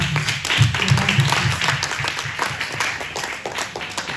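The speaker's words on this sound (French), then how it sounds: "Nous allons acclamer pour ça" A church congregation at a Sunday service applauding together, a dense wash of hand claps that swells early and then thins slightly while staying steady, with faint voices mixed in.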